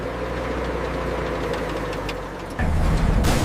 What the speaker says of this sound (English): Listen to that V12 purr.